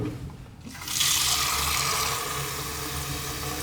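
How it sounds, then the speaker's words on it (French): Tap water runs into the removable tank of a De'Longhi Atelier coffee machine, a steady close hiss and splash that starts suddenly and keeps flowing evenly. "Et de remplir l'eau dans le bac."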